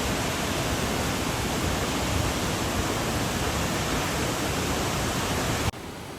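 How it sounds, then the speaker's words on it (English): Waterfall in Wakayama, Japan, roaring as a steady, dense wash of falling water heard up close, loud and unbroken until it drops off abruptly just before the end. "It's such a beautiful waterfall."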